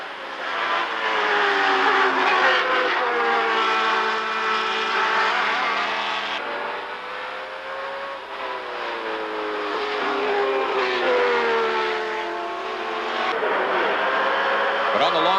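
Can-Am race cars at Lime Rock in 1985 roar along the long front stretch, one pulling out to pass into the first turn, a steady loud engine drone rising and falling, with a commentator talking over it.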